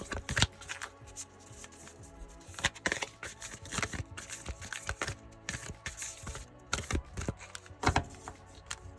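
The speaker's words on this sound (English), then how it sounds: "which I will shuffle and then cut" Oracle cards from a Lovers Oracle deck being shuffled by hand, a steady run of crisp riffling and flicking bursts with sharp slaps, close and fairly quiet, with no talking.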